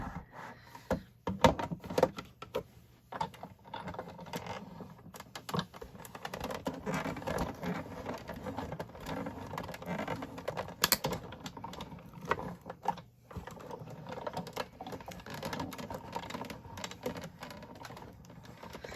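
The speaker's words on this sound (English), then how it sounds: "I'm going to run everything through my die cut machine" A die cut machine rolls cardstock and a metal shim through its rollers, giving a faint, uneven run of soft clicks and rattling taps over about twenty seconds, no talking.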